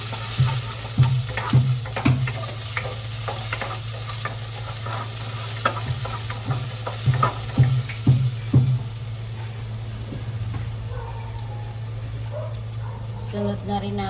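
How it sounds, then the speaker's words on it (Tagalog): Ginger frying in a pan for chicken tinola with garlic, a constant sizzle under a hum, punctuated by a run of rhythmic stirring scrapes and clacks that later fade to plain sizzling. "Sunod na natin tong luya"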